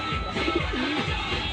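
Pigeons coo softly, with a couple of low, rounded calls heard over a steady background hum.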